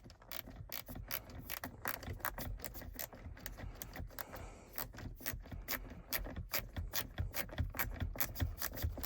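A hand ratchet works screws out of a Magnum MX 200 blower motor, giving a fast, steady stream of loud, close metallic clicks that continues throughout with only brief slowdowns.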